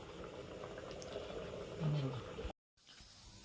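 Rice cooks in a pot, a quiet low bubbling boil with a soft steady hiss, briefly cutting out near the end.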